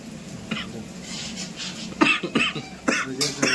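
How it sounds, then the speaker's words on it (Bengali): Someone coughs repeatedly in a home kitchen, the harsh coughs set off by pungent fumes from cooking with a lot of oil. The bursts come in uneven clusters over faint background noise, with some speech mixed in. "ঝাঁঝ উঠতে রে, কাশি শুরু হয়ে গেল।"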